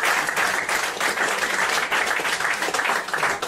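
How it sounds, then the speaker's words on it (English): Steady audience applause at a stage magic show as a volunteer walks up to the stage, dense and continuous clapping from a crowd throughout, fairly loud with no clear talk over it. "Give them all a round of applause to make his way towards the stage."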